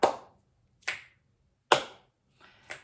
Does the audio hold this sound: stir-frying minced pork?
no